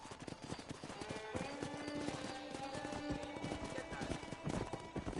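Horse hooves clip-clop steadily in the Red Dead Redemption video game, a dense ongoing trot mixed with game music and ambience, with a possible whinny among the steps.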